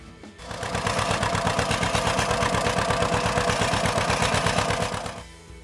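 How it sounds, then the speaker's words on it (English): Two-cylinder, 175 cubic inch engine of a 1950s Model B farm tractor running steadily, a loud, even, rhythmic thrum with distinct pulsing beats that starts abruptly and fades out near the end. "175 cubic inch engine sipped fuel and produced a gentle, rhythmic thrum"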